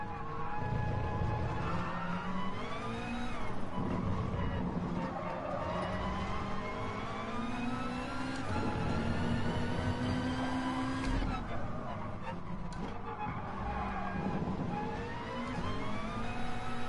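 A Gran Turismo Sport racing car engine revs and shifts down through the gears in a race, with a steady whining drone and rising and falling pitch, while someone talks over it.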